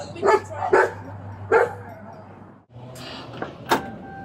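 Dogs bark from inside a car during a police traffic stop, several sharp barks in uneven bursts over a low engine hum, with a brief pause and a door-like thump midway.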